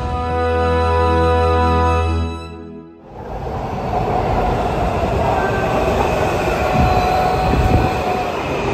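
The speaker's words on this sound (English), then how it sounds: "Oh, here comes our train, the yellow train." A yellow-line subway train rumbles into a Washington DC station, with a loud tonal hum fading out, then a broad roar of wheels and rail noise with faint squeals.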